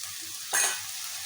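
Chicken fried rice with capsicum sizzles in a pan, a low steady hiss broken by one brief sharp burst of frying noise midway, with no speech.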